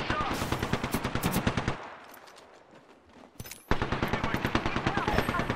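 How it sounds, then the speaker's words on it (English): Rapid automatic gunfire in the Apex Legends video game, loud bursts of closely spaced shots, a short lull with quieter scattered sounds, then another sustained burst. "Hey, I'm getting shot!"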